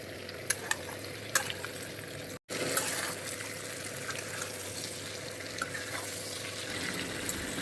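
Pork sizzling and being stirred in a hot pan for a pork-with-mustard-greens dish, a steady frying hiss with scraping stir sounds and a brief break partway through.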